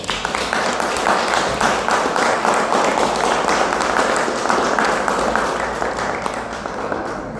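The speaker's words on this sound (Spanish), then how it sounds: "un aplauso merecedor para ellos" A crowd applauds steadily, dense clapping from many hands sustained for several seconds in a large room.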